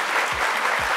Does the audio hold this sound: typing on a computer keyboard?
no